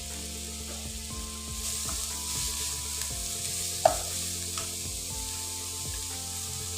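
About a cup of chopped onion frying in a little oil for a chicken and cauliflower curry, a steady soft sizzle with occasional stirring scrapes and one sharp clack, close and quiet with no talking.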